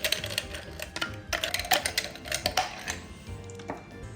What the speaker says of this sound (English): And here we're putting in about 3/4 of a cup of ice.